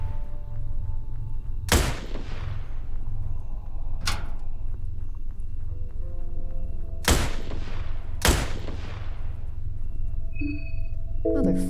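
Gunshots fired at the player in the video game Fear and Hunger: Termina, four sharp loud cracks spaced unevenly over a low droning ambience, with a few faint game tones near the end.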